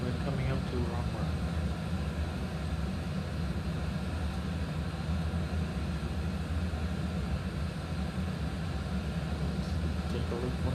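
An airliner approaches the runway in a flight simulator, with a steady broadband engine and wind roar holding constant throughout, and a voice talking faintly beneath it.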